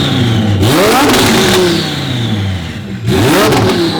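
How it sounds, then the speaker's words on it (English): A twin-turbo Lamborghini engine revs hard twice, the pitch sweeping up and falling back each time, very loud and close, with a short lull between the two blips. "Give it a little juice, a little rev, and then shut her off"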